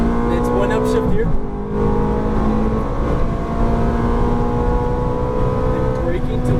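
Ferrari F430 engine at steady high revs out on a race track, a continuous loud harmonic drone with a brief dip around one upshift, heard from close range under faint talk.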